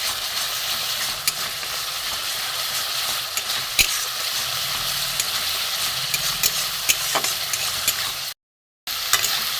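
Spice paste with grated ginger frying in oil for chicken kofta curry, a steady close sizzle with faint stirring scrapes and small pops throughout, no talk, briefly cut off near the end.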